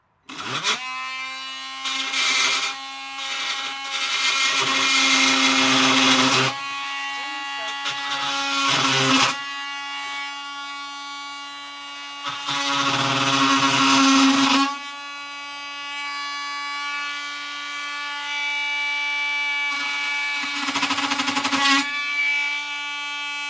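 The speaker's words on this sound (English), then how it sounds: "you should use the multi-tool" An oscillating multi-tool cutting during a van build in the United Kingdom, its loud high-pitched buzz coming in several bursts of a few seconds each, separated by quieter gaps, with a person talking intermittently.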